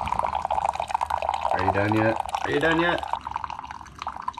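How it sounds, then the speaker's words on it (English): Coffee trickles and drips from a coffee maker first thing in the morning, a soft continuous liquid patter while a voice speaks impatiently over it. "whenever you're waiting for your coffee first thing in the morning, it always seems to pour a lot slower"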